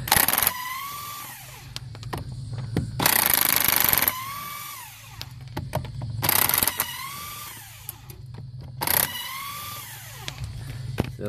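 An impact wrench or ratchet run in bursts, spinning bolts off the rear brake of a 2012 Mini Cooper, with loud rattling whirs separated by quieter pauses, close to the microphone.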